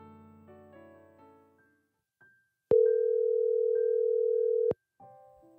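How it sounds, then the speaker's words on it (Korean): A single long steady tone sounds on the phone line as a call is connected during a Korean church counselling broadcast, clear and alone for about two seconds, after fading music and a short click. "먼저 전화를 연결해 보겠습니다."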